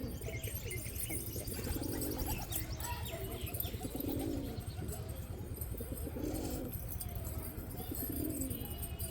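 Repeated low, soft pigeon coos at a steady rhythm, fairly close, over a constant background hum, with faint chirps now and then.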